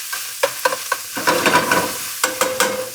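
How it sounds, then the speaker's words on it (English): Greens frying in hot oil in a pan, crackling sizzle broken by sharp spoon knocks and scraping strokes, close and fairly loud, with no talking. "And this we're gonna fry in that oil."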